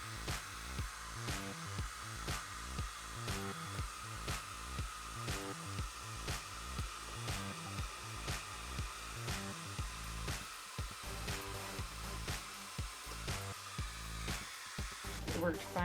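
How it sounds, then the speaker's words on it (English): A hairdryer blows steadily to heat dollhouse wallpaper and loosen its glue, a loud continuous whooshing roar with a regular pulsing flutter throughout, and a voice speaks over it. "I'm going to heat this up with my hairdryer because it releases the glue"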